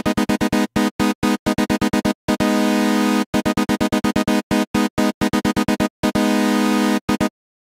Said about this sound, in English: I load a SurgeXT with a sawtooth init sound into a new track and copy the notes of the track as a template.